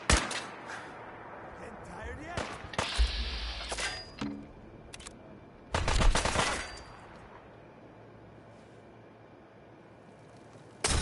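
Gunfire in Fallout 4 on PS5: a few scattered sharp shots and short bursts, with a louder cluster around the middle, over a steady game background.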